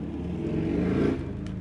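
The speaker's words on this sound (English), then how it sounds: "He just wants to rev it as loud as possible so everyone knows how cool he is." Motorcycle engine in Bloodborne revving up, a loud mid-pitched growl that swells over about a second and then eases off, heard alone.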